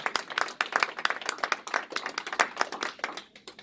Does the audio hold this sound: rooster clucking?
no